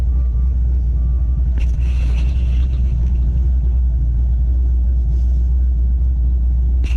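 A twin-turbo C5 Corvette with a little nitrous idles in a deep, steady rumble close by, with a couple of brief higher bursts over the constant low drone and no talking.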